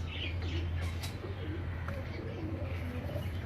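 Pigeons cooing nearby in soft, rolling, repeated calls over a steady low hum, with a voice faintly talking in the background.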